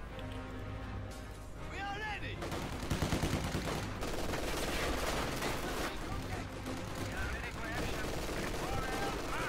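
Sustained gunfire and machine-gun bursts from conscript squads and a machine-gun team crackle through a strategy war game battle, dense and continuous under a steady commentator voice.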